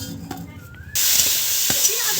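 Semolina stirred in hot ghee in a pan for a sweet dish sets off a loud, steady sizzle that starts abruptly, with faint scraping strokes beneath it.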